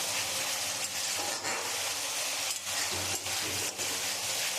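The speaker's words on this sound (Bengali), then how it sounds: "আমি এবারে পরিমাণ মতন জল দিয়ে দেবো।" Spiced curd masala sizzles steadily in hot oil in a pan as water is added for a bitter gourd (kakrol) yogurt curry. The frying hiss is loud and continuous, with no talking.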